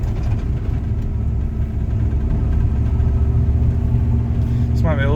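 A 1988 Ford F150 with a 5.0 engine and a 5-speed manual gearbox is driving and makes a loud, continuous low engine rumble from inside the cab throughout. Someone talks over the engine noise.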